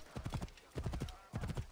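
Hoofbeats of a galloping horse in the game Assassin's Creed Origins, three quick bursts of thudding clip-clop close up, with no voice over them.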